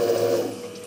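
Coolant rushing through a CNC machine spindle and spraying off the tool, a brief dense hiss and splash of fluid, loud and close.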